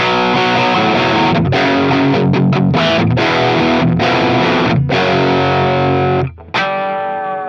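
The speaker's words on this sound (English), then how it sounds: "I'm just going to kick on a Tube Screamer style overdrive and give it a bit of a boost so you can hear it" Loud Ibanez RG2620 electric guitar driven through a Tube Screamer style overdrive, sustained distorted chords and notes ringing out with brief gaps between phrases, played alone without talk.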